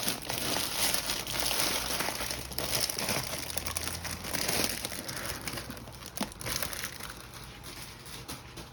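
Scissors slice through a cellophane gift bag with close, crackling crinkles and crisp tearing rustles, steady throughout at a low level.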